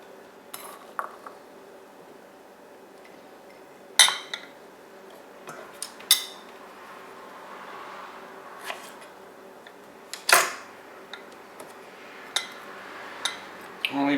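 Dill pickle slivers are packed into glass canning jars, with sparse, quiet clinks and knocks of glass and handling scattered irregularly over a hushed background.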